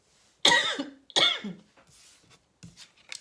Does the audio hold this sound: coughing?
yes